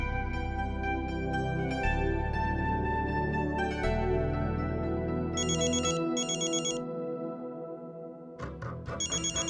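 A mobile phone rings with a bright, repeating melodic ringtone that plays loud and clear for several seconds, ending in short chirping bursts, with no talking over it.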